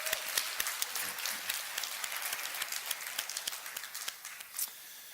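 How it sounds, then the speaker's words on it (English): An audience applauds the event organisers at a talk: dense, steady clapping that is fairly near and continuous, with a few sharper individual claps rising above the crowd. "let's just start by just applauding Nui and her whole team for that great work"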